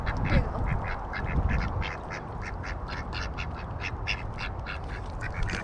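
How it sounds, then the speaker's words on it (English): Several ducks quack repeatedly in a steady, chattering series at moderate distance, heard outdoors over a continuous low rumble of background noise. "Okay, these ducks are a little too brave."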